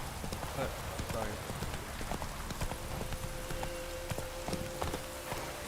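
Horses walking in a video game, a steady patter of clip-clopping hooves over a busy, rain-like hiss of game ambience, with a voice talking across it and a faint tonal hum entering partway through.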